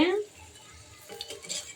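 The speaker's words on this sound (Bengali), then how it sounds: "সসেজ ভাজা হয়ে গিয়েছে এখন আমরা এটা তুলে নিব" Fried sausages are lifted out of a frying pan: a sharp metallic clank of a utensil against the pan opens, followed by faint scraping and light clinks.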